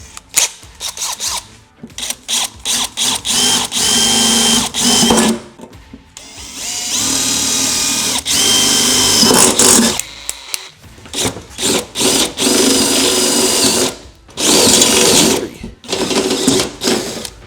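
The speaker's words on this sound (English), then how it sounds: "We're gonna start with a 3/16 inch drill bit, and then we're gonna expand it to a 1/2 inch" A power drill whirs loudly in repeated bursts of varying length, boring holes with a 3/16 inch bit then enlarging to 1/2 inch on a Ford F-150 truck, stopping and starting with short pauses between runs.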